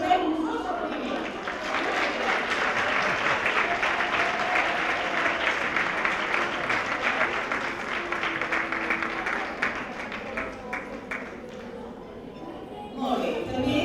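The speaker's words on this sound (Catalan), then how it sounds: "la Maria Madrina Espreu, també us rebem un fort aplaudiment." An audience at a tribute to women textile workers in Taradell gives a long, strong round of applause, dense and sustained clapping that tapers near the end before picking up again.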